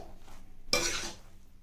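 A puffed rice mixture is stirred in a pan over a low flame for a North Karnataka tiffin, giving one brief, close scraping rustle in an otherwise quiet kitchen.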